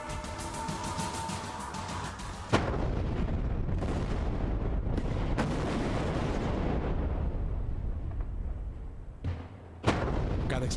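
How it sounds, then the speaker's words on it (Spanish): Construction blasting at a bridge pier foundation on the Baluarte Bridge: sharp explosive cracks followed by long, heavy, roaring rumbles, loud and dense, with a softer lull before a final blast. "Cada explosión genera una propagación de ondas parecida a la de un sismo."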